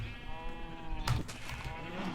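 A cow in Minecraft gets hit and lets out a single hurt moo in a swamp world, a short bellowing call that rises midway, with faint game ambience around it.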